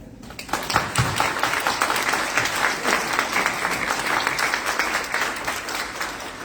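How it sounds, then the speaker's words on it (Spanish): An audience at a conference on thanatology gives steady, full applause, many hands clapping together in a continuous wash for several seconds with no talk over it. "pues un aplauso y gracias por haber venido"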